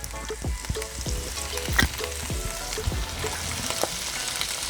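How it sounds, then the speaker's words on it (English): Chicken for fajitas sizzles loudly in a hot pan as Worcestershire sauce is shaken in, a dense crackling fry with sharp pops and spits up close, no talking. "A little bit of the Worcestershire sauce."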